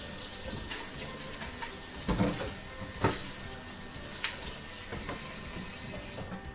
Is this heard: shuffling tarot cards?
no